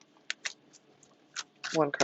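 Yoga cards shuffled by hand give a few sparse, crisp papery snaps close up in a quiet room, and a voice starts talking at the end.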